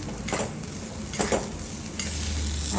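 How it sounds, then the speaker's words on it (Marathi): A spoon scrapes and stirs sweet semolina sheera with coconut in a pan, making a soft sizzle broken by a few distinct scraping strokes, close and quiet, with no talking. "आता हे सुद्धा छान एकत्र मिक्स करून घ्यायचं आहे"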